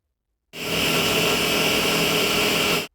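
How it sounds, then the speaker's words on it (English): A hammer drill bores into a concrete ceiling, loud and steady for over two seconds with a gritty, grinding roar, stopping abruptly; no talking. "this could drill into concrete ceiling really, really well."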